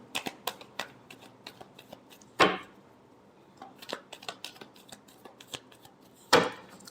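Tarot cards are shuffled by hand up close, giving a run of light, crisp flicks and taps, with two louder riffling bursts standing out amid the quieter shuffling.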